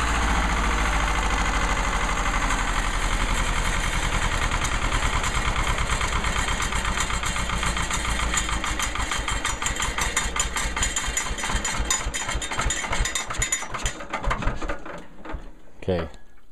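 An old diesel engine with a flywheel runs loud and close at a steady idle, then its knocking beats slow and fade as the engine winds down to a stop near the end.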